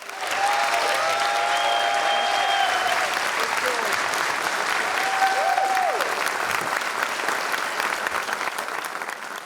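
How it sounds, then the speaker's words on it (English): Long, sustained audience applause fills a Cinémathèque française hall after a filmmaker is welcomed for a masterclass, steady and dense throughout with faint voices mixed in. "That's the record for the longest applause I've ever had in my life."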